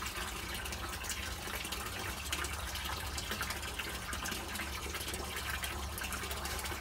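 Water runs steadily into a cold plunge tub, a constant close rushing and gushing from a tap with no pauses and no voices.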